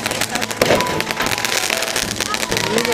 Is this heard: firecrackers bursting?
yes